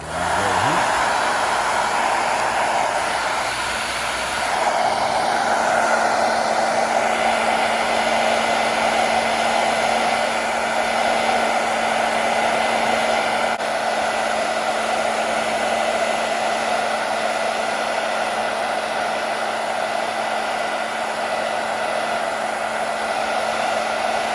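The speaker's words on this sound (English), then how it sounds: "what we're doing here is wax and making it liquid, and we're also heating up the leather" A hot-air blower roars steadily and loudly, running without pause to melt wax into a leather Glock 19/23 holster, with a constant whine throughout.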